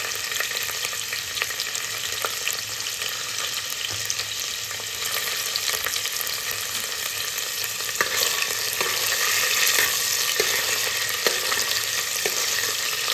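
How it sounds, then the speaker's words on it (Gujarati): Paneer fries in a pan over a low gas flame until golden brown, giving a steady, soft sizzle that runs continuously with a few faint stirring clicks and no talking. "આપણે પનીરને ફ્રાય કરી લઈએ"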